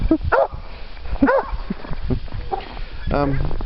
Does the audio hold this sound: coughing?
no